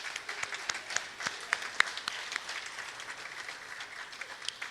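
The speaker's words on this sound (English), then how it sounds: "A big round of applause for Mr." Dense, steady applause from an audience at the 2016 Muzaic Awards show in Grand Cayman, many hands clapping fairly near with crisp overlapping claps sustained throughout, without talk.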